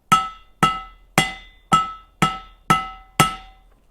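Hammer blows on a deep socket drive a part into the front end of a 1948 Farmall Cub tractor during restoration, seven sharp metallic strikes evenly spaced about half a second apart, each ringing briefly, close and loud with no talk.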